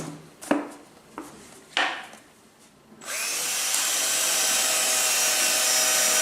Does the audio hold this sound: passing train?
no